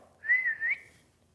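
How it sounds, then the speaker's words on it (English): A single short whistle from a person, a clear mid-pitched tone that rises and wavers for about half a second, heard alone and fairly close. "Suddenly, out came a real whistle."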